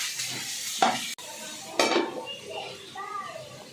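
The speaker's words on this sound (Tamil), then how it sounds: "புடலங்காய் போட்டுடலாம். ஒரு கிளறி 5 நிமிஷத்துக்கு மூடி வச்சிடலாம்" A spoon scrapes and clatters in a pan of snake gourd and sautéed onions, with two sharp metal knocks as the lid goes on, followed by a soft faint sizzle.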